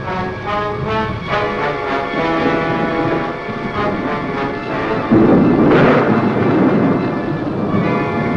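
Thunder from a lightning storm rolls in a low, sustained rumble under a musical score, swelling louder near the end, with no speech.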